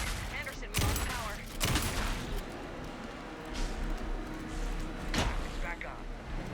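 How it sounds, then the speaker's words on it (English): Sharp bursts of gunfire crack out several times amid a busy background of action in Alan Wake II, with voices calling out over the shooting. "Anderson, pin him down with gunfire."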